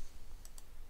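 Two quick, faint mouse clicks sound close together in an otherwise quiet software tutorial setting.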